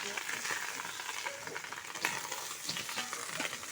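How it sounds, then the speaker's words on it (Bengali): Cooked rice frying in ghee, stirred with a metal spatula: a steady, dense sizzle and hiss throughout, with small scraping clinks of the spatula and no voices. "এখন এই ভাতটাকে দিয়ে দিচ্ছি ঘিয়ের উপর দিয়ে ভেজে নেব।"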